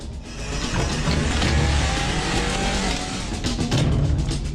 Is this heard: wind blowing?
no